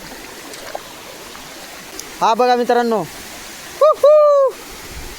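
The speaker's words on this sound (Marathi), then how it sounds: "हा जो वॉटरफॉल आहे ना छोटासा वॉटरफॉल आहे परंतु जेवढ्यात जास्त पाणी असतो ना तितका भारी वाटतो" A small forest waterfall gives a steady, even rush of falling water close by, while someone speaks briefly twice over it.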